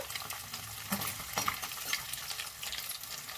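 Eggs fry in a pan for breakfast chicken noodles, a close, continuous crackling sizzle with brief louder pops and spits, heard alone without talk.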